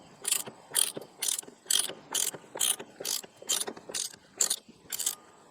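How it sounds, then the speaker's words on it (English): A 13 mm socket wrench ratchets back and forth on a Jeep, about a dozen quick clicking bursts in a steady rhythm, close and alone. "That and a 13 mil socket wrench. So, it's just as simple as just cranking it back and forth like this."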